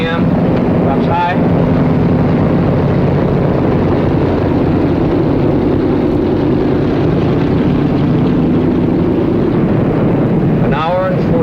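Aircraft piston engines rumble loudly after touchdown in a 1950 military transport, a dense steady roar with heavy wind buffeting throughout and brief whining tones near the start and end.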